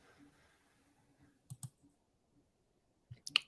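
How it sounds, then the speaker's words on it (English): A computer mouse clicks during an online call, a few faint, sharp double clicks in a quiet room, with brief soft murmurs between them. "I can hear your mouse click now"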